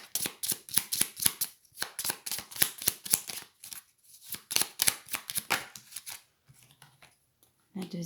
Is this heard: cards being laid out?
yes